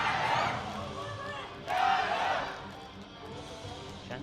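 A beach volleyball crowd at the Shanghai Grand Slam chants for China in two swelling surges, a broad distant roar of many voices.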